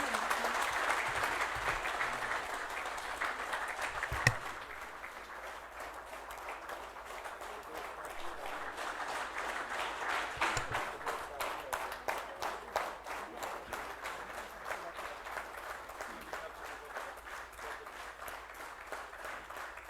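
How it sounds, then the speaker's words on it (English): Sustained audience applause at a corporate conclave event, many hands clapping steadily in a large hall for the full stretch with some dips and swells, fairly distant and soft. "A huge round of applause."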